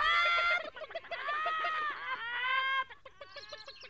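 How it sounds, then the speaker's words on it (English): Several hens cluck and squawk in a lively, overlapping chatter in a children's animated farm scene, fairly close and steady, with no talking over them. "And mind you don't cluck too much or you'll put me off my driving."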